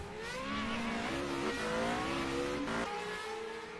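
A Formula Renault 3.5 race car passes close by at Spa, a loud high-revving engine wail whose pitch shifts as it goes past and then drops away.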